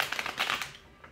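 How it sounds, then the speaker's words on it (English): A deck of tarot cards riffled in a quick shuffle: a close, soft flurry of papery flicks for about half a second, then fading to quiet. "I'll do a couple more shuffles"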